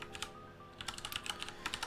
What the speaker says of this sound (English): I'm just totally typing out this stuff that is just way up there.